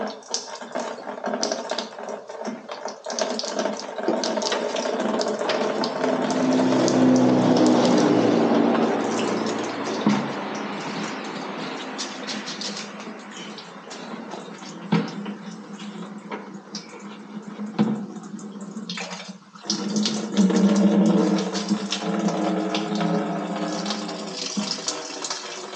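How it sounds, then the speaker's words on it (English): Coolant water drains from a car radiator being prepped for a burnout contest, a steady splashing, gurgling pour that swells midway, dips briefly, then resumes strongly near the end, close and continuous with no talk. "let's start draining the radiator"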